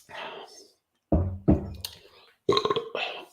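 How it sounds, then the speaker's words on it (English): A deep, loud burp after chugging Shipyard Pumpkinhead pumpkin ale, a low rumbling belch around the middle of the clip, with breathy vocal sounds before and after. "I just burp it right back up."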